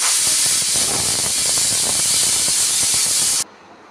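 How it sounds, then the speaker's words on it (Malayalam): A pressure cooker cooking dal for Kerala sambar on a gas stove gives a loud, close whistle of rushing steam that holds steady for about three and a half seconds, then cuts off abruptly into near silence. "ഇപ്പോൾ ഒരു വിസിൽ വന്നിട്ടുണ്ട്"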